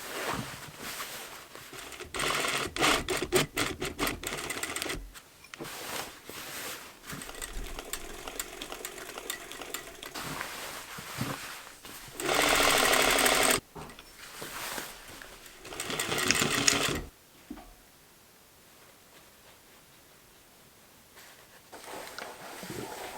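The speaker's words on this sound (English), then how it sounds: "sew a small rectangle around it for a clean finish and easier access" A sewing machine stitches a blouse bodice in long whirring runs at changing speeds, stopping and starting several times before it goes quiet near the end.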